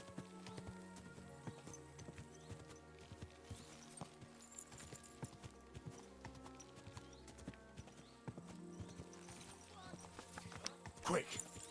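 Horse hooves clip-clop steadily in the medieval game Kingdom Come: Deliverance II, a continuous trotting rhythm layered with background music and game sounds, with a brief whinny-like burst near the end and a voice talking over it.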